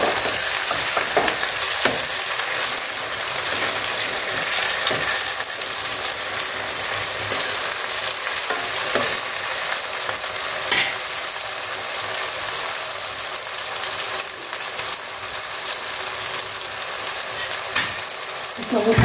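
Onions and green chilies sauté in a pan for a village-style fish curry, producing a continuous bright sizzle with occasional scraping clicks from stirring, and no voices.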